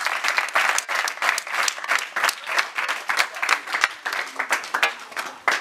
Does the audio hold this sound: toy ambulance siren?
no